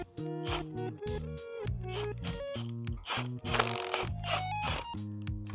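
An impact wrench hammers at a sprocket bolt on a chain-and-sprocket upgrade while a flathead screwdriver blocks the sprocket, giving a steady run of close, loud, ratcheting bursts with a buzzing motor tone for several seconds.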